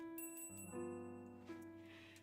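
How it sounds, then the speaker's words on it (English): A shop door bell rings in a bright chime, struck twice in quick succession, its metallic tones ringing on and fading away clearly in a quiet room. "With the sound of the bell on the door catching my attention"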